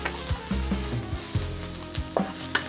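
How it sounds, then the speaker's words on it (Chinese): Tuberose flowers stir-fried over high heat in a thin layer of oil in a nitrided Chinese wok, with a steady sizzle and repeated scraping and tossing of the spatula close by. "现在把这个晚香玉丢进去，晚香玉也是把它爆炒一下就好了。"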